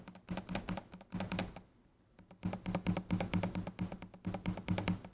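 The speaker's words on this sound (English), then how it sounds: "we will do some little tests of pressing keys" Bursts of rapid key presses on a Logitech G515 Rapid TKL keyboard, a quick clacking run broken by a brief pause, then more quick typing, close and crisp.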